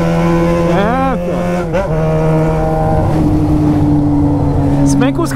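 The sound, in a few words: Yamaha XJ6 motorcycle engine with original exhaust pipe only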